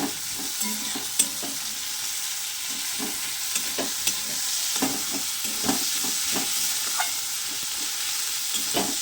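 Garlic and other ingredients fry in a pan for a mustard fish curry, giving a steady sizzle with scattered clicks and scrapes of stirring throughout, close and moderately loud, with no voices.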